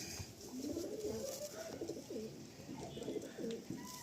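Pet pigeons kept in a small loft, heard close up giving soft, low, repeated cooing phrases that run continuously over faint background hiss.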